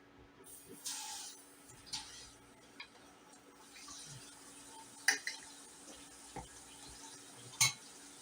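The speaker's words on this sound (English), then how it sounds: "y'all sitting there just watching me stir eggs" Scrambled eggs with cheese stirred in a pan, a soft steady scraping and faint sizzle with occasional sharp clinks of utensil on pan, close and quiet.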